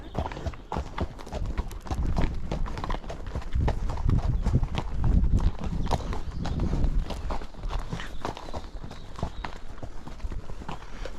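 Hooves clip-clop steadily on a road as a horse is ridden out on a hack past old stone buildings, a close, continuous walking rhythm with faint sounds around it.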